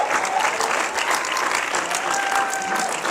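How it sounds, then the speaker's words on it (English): A round of applause from a student audience at a conversation event, dense and continuous at a moderately loud level for the whole stretch, with no talk over it. "Thank you so much for giving a round of applause."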